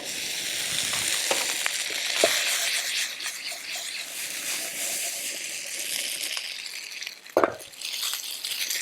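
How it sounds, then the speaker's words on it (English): Mushrooms fry in a pan as a mushroom rice base, a continuous close sizzle and hiss with occasional scrapes and light clinks of a utensil, no talking. "add the mushrooms, fry them down for a little longer"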